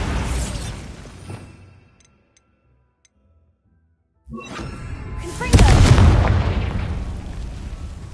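A blast from the Bombarda spell in a Harry Potter-style video game bursts in loud and broad after a silent pause, then rumbles and crackles before slowly fading, with game sounds earlier in the clip.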